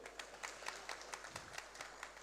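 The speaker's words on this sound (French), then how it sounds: "Il faut l'applaudir." Audience applause at a corporate product presentation by a bank, faint and distant, with rapid, steady clapping throughout.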